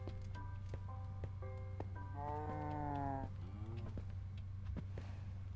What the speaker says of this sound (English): And then a moo cow that I can chop up and eat if I want to.